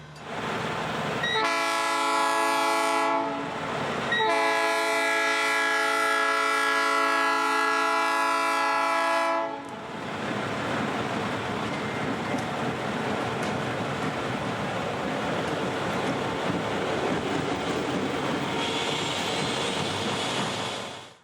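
Freight train at a synced road crossing on the Florida Northern Railroad, its horn blasting loudly in two long sounds, then the heavy rumble and clatter of cars rolling past continuously up close.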